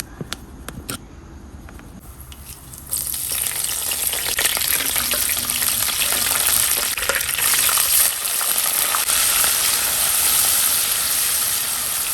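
Chicken begins sizzling loudly in hot oil after a few quiet seconds with light clatter, then crackles steadily and close for the rest.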